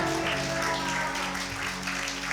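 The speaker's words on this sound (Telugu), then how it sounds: "గట్టిగా చప్పట్లు కొట్టాలి." A congregation at a church service claps loudly together, a dense, continuous wash of hand claps sustained throughout with a droning musical tone underneath.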